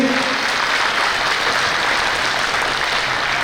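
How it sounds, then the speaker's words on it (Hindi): A large audience at a Meena community gathering and biennial convention in Kutch gives a member of parliament a thunderous welcome, a dense, unbroken wall of clapping close and loud throughout. "एक बार तालियों से जोरदार उनका स्वागत करेंगे सभी।"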